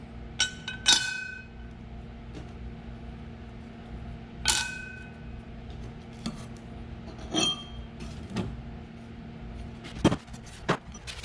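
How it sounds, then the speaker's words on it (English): Metal Bush Hog clutch plates, still slick with shipping oil, clink and scrape as they are handled and cleaned: scattered sharp, close metallic chinks with quiet gaps between them. "Going to clean the shipping oil off of these clutch plates"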